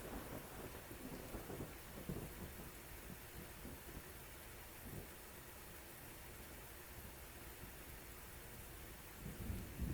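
Thunderstorm in the Civil War strategy game Grand Tactician: steady heavy rain hiss with low rumbles of thunder rolling under it, constant and enveloping.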